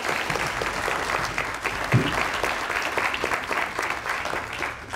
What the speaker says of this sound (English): let's have another round of applause for our 18 winners.